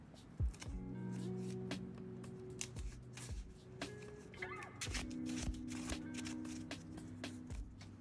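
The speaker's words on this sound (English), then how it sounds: "And I'll shuffle again." Someone shuffles a deck of cards during a Marvel Champions tabletop card game, with rapid riffling and tapping bursts, quiet and close, spread over several seconds.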